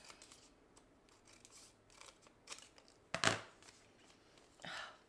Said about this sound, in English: just fold your card, look at the back, and cut off those edges.